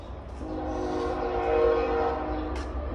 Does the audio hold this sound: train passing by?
yes